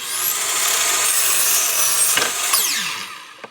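A hand saw cutting a wooden paneling slat for a DIY range hood surround, heard as a steady, loud back-and-forth rasp close up for about three seconds, which then trails off into a final scrape.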